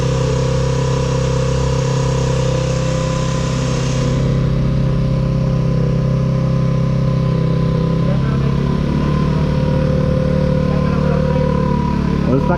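A stock Kawasaki Raider motorcycle engine idles loudly and steadily up close, its low rumble continuous throughout with slight shifts in tone.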